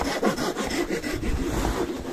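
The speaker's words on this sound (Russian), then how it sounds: "пилит ствол" A tree trunk is cut by hand saw in a winter forest, with quick back-and-forth rasping strokes of the blade biting into wood, close and rhythmic, with no voices.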